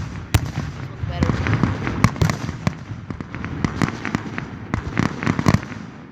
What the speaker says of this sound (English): This is a more entertaining firework than that.